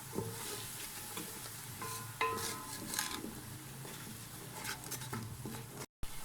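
A spice masala of chili powder, turmeric, cumin and garam masala fries in oil for mash dal, with a continuous sizzle and scraping stirs of a spoon in the pan up close.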